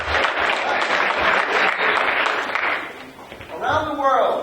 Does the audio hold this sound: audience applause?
yes